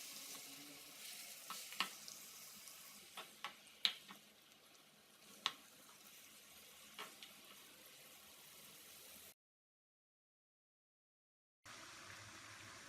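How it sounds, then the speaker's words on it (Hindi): Mutton fries in ghee in a karahi, giving a soft, steady sizzle with scattered sharp pops and spatters. It drops to silence for a couple of seconds, then the quiet frying resumes. "कढ़ाई में घी डाल लें और गोश्त डालकर अच्छी तरह भून लें"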